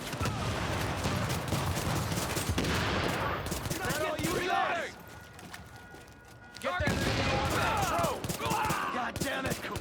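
Video game gunfire in dense rapid bursts of automatic fire, loud and continuous, dropping briefly before resuming, with voices talking underneath.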